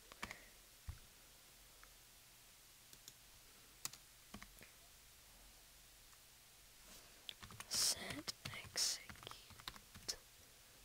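Typing on a computer keyboard while coding a Bukkit plugin: sparse, faint key clicks early on, then a denser flurry of sharper taps and clacks toward the end, with whispered speech in the background.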